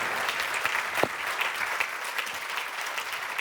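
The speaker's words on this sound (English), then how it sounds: "Let's give them a round of applause." An audience at a conference session claps continuously, a dense, even wash of applause that holds steady throughout with no voices standing out.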